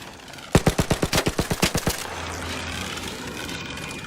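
A burst of automatic gunfire from the Arc Raiders video game: around a dozen rapid, evenly spaced loud shots over about a second and a half, then a low hum and fading ambience.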